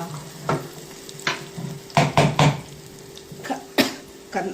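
Malabar spinach greens go into a hot tempering of garlic, curry leaves and asafoetida, setting off loud bursts of sizzling and scraping stirring strokes close by.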